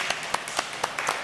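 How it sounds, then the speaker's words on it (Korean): A congregation at a Sunday church service claps together in a brisk, even rhythm, several sharp claps in quick succession over a soft room hum. "이렇게 인도하신 하나님께 영광의 박수를 올려드리겠습니다"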